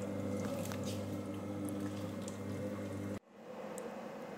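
Tomato cream soup with garlic simmering in the pot of a Lidlomix cooking machine gives a steady bubbling, hissing texture over a low hum, then cuts abruptly to a quieter, thinner background near the end; no one speaks.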